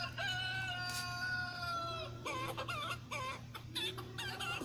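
A chicken ringtone plays, with bursts of excited clucking and a rooster-like crowing call in a rapid, choppy rhythm over a steady low hum.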